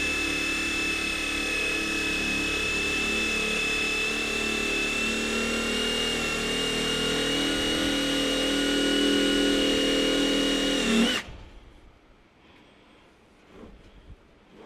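Loud, close and continuous, a Fanttik REX K2 APEX mini impact driver whirs steadily for about eleven seconds as it drives a screw into wood, then cuts off abruptly, leaving faint quiet.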